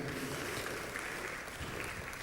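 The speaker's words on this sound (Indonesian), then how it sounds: "Tepuk tangannya yang meriah." Steady applause from a church congregation, a dense continuous patter of clapping with no pauses.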